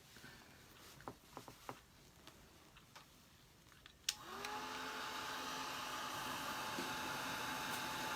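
A hair dryer drying paint on a snowman-on-a-sled painting switches on midway with a sharp click and then blows as a steady, close whirring roar, after a few soft taps and clicks.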